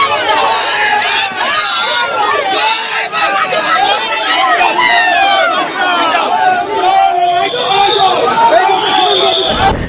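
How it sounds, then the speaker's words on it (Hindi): A crowd at Kalighat chants Joy Bangla slogans at Suvendu Adhikari, a loud, dense mass of shouting voices overlapping continuously, close and energetic, with no pause throughout. "भीड़ ने जय बंगाल के नारे लगाने शुरू कर दिए"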